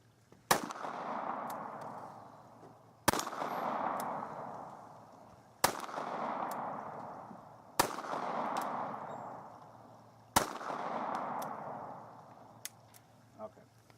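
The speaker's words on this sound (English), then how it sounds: "So I can shoot this thing in double action and in the single action." A compact revolver handgun fires five single-action shots, each a sharp crack with a ringing, decaying tail, spaced evenly about two and a half seconds apart outdoors, with faint background noise between them.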